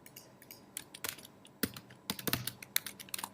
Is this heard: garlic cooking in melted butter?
no